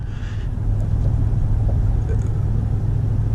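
Steady low road rumble and tire noise from a 2018 Ford F-150 pickup driving over a rough road, loud and continuous from inside the cab with a faint engine hum and no talking.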